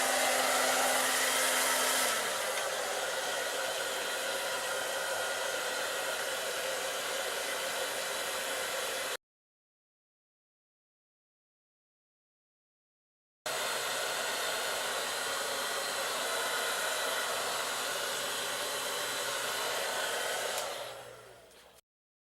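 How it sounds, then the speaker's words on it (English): A hair dryer blowing steadily on wet carbon fiber resin to chase out air bubbles, a loud continuous whir close by that pauses abruptly for a few seconds, then resumes and winds down. "But since I don't have a heat gun, I use an air dryer."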